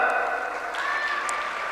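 Audience clapping at a students' congregation valedictory prize ceremony held by the Brahma Kumaris. Moderate, continuous applause sits under a voice and a sustained musical tone.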